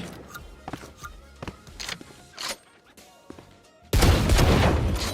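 Kuronami-skinned gun in Valorant, a burst-fire weapon that cannot be held down for automatic fire, firing several sharp, separated shots in quick succession, then a loud, dense wash of sound filling the final second.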